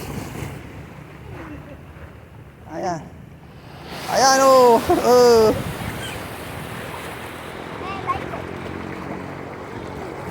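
Ocean waves wash and rumble steadily on a Philippine beach with wind buffeting the microphone, while people talk and call out over the surf.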